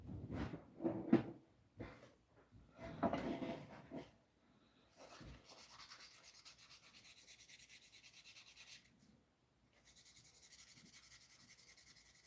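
Hand sanding, with short scratchy rubbing strokes in bursts up close, followed by a longer steady hiss-like scrape that pauses briefly and resumes, with no voices.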